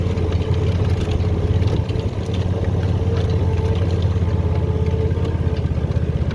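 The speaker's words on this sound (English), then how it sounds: "I'm probably gonna start mowing. Driving through the grass is always so much fun" A riding lawn mower drives across grass, its steady low engine drone loud and close throughout with a constant rumble and no pauses.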